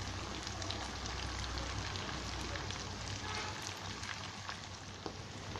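Pieces of fish 65 fry steadily in hot oil, a dense, even crackling sizzle with scattered pops that carries on without pause at a low level.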